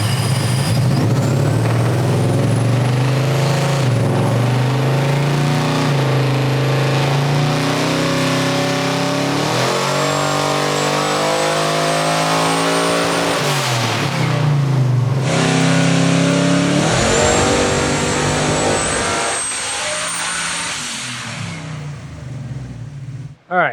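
An 1800hp twin-supercharged Monte Carlo revs hard on a hub dyno, its engine roaring loud and continuous with rising and falling pulls, a high supercharger whine riding above the roar until the throttle drops near the end.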